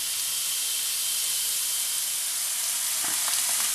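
Ground meat fries in a pan with a steady, even sizzle and hiss held close and constant, plus a few faint clinks near the end.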